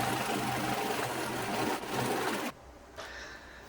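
Sewing machine running steadily as it stitches purse pieces together, a continuous close mechanical whir that stops abruptly partway through, followed by quieter handling sounds.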